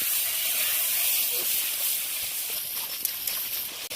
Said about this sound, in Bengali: মশলাটা দিয়ে কষানোর জন্য খুব ভালো করে নেড়ে দেবো।